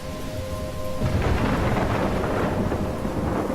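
A video game thunderstorm with a low rolling thunder rumble over steady heavy rain, loud and continuous throughout.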